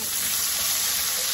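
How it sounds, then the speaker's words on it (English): Steady, close sizzle as chopped onions hit a hot pan, with broad hiss and no break through the brief moment. "So I'm just going to add these onions in"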